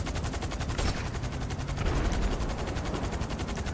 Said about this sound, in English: Come on, I'll shoot a car then.